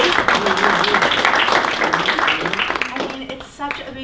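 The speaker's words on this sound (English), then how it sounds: "Can I get like an applause for having a baby?" Members of a childbirth class applaud, scattered clapping that runs for a few seconds with overlapping voices and cheering mixed in, then tapers off.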